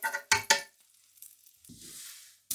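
Butter sizzling as it melts across a frying pan for Japanese batayaki, preceded by a few sharp clatters of the pan, then a soft steady hiss rising for about a second before another knock.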